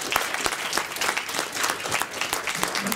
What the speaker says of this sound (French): en me faisant aider par Wiebke, que je vous demande d'applaudir très chaleureusement